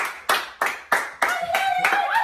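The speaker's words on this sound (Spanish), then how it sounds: "Un aplauso por Play" Hands clap at a small gathering celebrating a YouTube subscriber award plaque. Sharp, close, separate claps come at a slow steady pace, then grow denser and overlap toward the end, with a faint tonal sound underneath.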